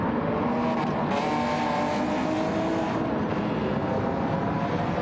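Race cars lapping Suzuka in Gran Turismo 7, a continuous loud engine roar with layered cars at high revs and subtle swells as the pack passes.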